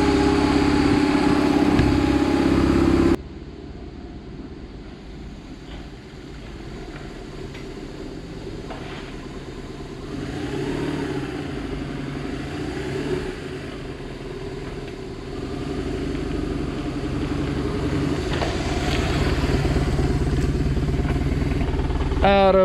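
BMW R1100GS motorcycle idling around 1100 RPM after three months in storage, a steady low engine rumble close by following a sharp loud burst at the start, continuing evenly throughout.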